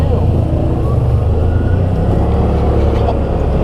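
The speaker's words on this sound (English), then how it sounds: "That was a group of Hondas there." A group of Honda motorcycles rolls past at a roadside meet-and-greet on a ride tour, a steady, loud engine rumble that stays dense and continuous throughout, with voices chattering underneath.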